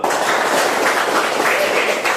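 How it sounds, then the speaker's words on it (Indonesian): A group claps hands together indoors, a dense, steady patter of many hands lasting a couple of seconds. "Oke, tepuk tangan dulu."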